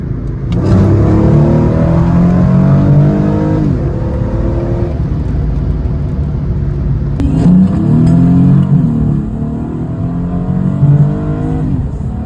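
A Mercedes with a 5-speed automatic transmission accelerates hard at full throttle, its engine note climbing steadily, dropping sharply at each gear change and climbing again through roughly three shifts. The engine is loud and close, with no talking.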